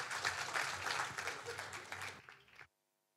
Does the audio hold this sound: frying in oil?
no